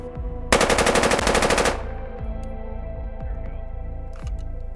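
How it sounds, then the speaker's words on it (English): Fifteen rapid unsuppressed semi-automatic rifle shots with no muzzle device, a loud sharp burst of evenly spaced cracks lasting about a second, followed by a ringing outdoor tail and faint background hum. "we are gonna do a control with no suppressor, no muzzle device or anything like that. So again, 15 rounds, semi-automatic."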